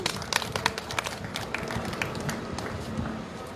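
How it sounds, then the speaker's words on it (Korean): A rally crowd breaks into applause to welcome a speaker, scattered sharp claps that are strongest at first and then thin into a steadier patter. "큰 박수로 모시겠습니다."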